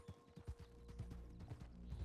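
Horses' hooves clip-clop steadily on a slippery mountain pass in a Western role-play video game, with several close, regular footfalls and no voices over them.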